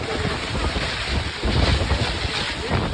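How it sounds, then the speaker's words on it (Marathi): Heavy stormy monsoon rain and strong wind at the seashore in Malvan during the Narali Purnima festival, a dense, loud, continuous roar of rain and gusts buffeting the microphone. "प्रचंड भयानक पाऊस पडतो अक्षरशः वादळी पाऊस आहे"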